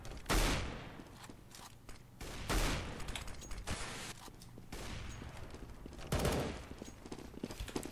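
Gunfire in the Roblox shooter CB:RO, several loud bursts of shots separated by quieter gaps of distant firing and movement, with no talking.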